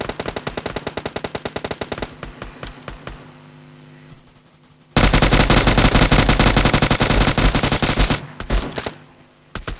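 Automatic gunfire in PUBG, with rapid bursts of shots that start out loud and then thin to scattered pops. A sustained, very loud volley follows, broken by a few closing shots, with no talk.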